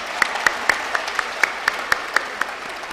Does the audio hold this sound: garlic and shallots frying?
no